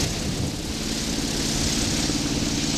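A sailboat's engine drones steadily while motor-sailing out of Calabash Bay in the Exumas, a constant low mechanical hum beneath broad wind and water rush, with no voices.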